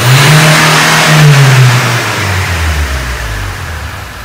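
A car engine revs loudly and close, its pitch sliding down steadily as it accelerates, with no voices.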